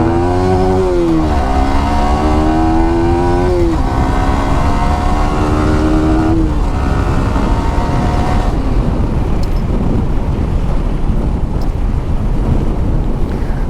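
A Yamaha R15M Indian-version BS7 motorcycle revs up through rising, falling engine pitch sweeps during a ride, then fades under heavy wind buffeting on the microphone.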